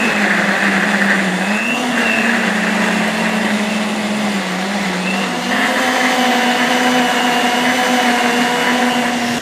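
Electric blender grinding onions and shallots with oil into a spice paste for chicken nasi kebuli, a loud continuous motor whine that dips and rises in pitch partway through, no talk.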